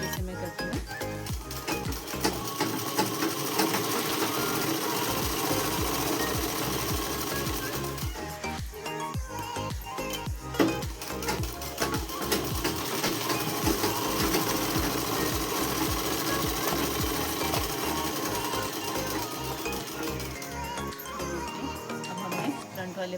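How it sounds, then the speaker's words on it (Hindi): A sewing machine stitches a simple dress in a steady, loud, continuous whir, with brief pauses and clinks of metal parts, while someone talks over it. "मैं आपको सिलाई लगाकर बताऊँगी"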